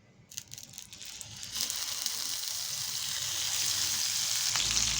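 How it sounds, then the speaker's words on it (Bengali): Brinjal pieces fry in hot mustard oil in a pan with a steady, close sizzle that swells within the first couple of seconds and then holds, with faint crackles. "এইভাবে বেগুনগুলোকে একটু ভেজে নেবো।"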